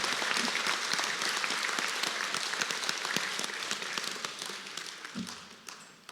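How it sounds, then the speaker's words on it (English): An audience at a high school valedictory ceremony applauds a student, a dense, steady clapping from many hands indoors that slowly thins and fades toward the end. "One last round of applause for Avanya."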